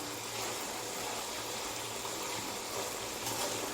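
Green cardamom and cinnamon fry in olive oil, giving a steady, dense hiss and crackle that fills the clip evenly without pause.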